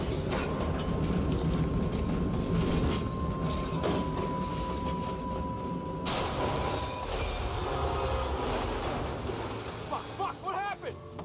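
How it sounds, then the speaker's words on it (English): A train rolls past in the Mafia: Definitive Edition video game, a loud sustained rumble of wheels and rail noise with a steady tone and brief squeals, while voices shout over it and it thins out near the end. "Some kind of fucking train?"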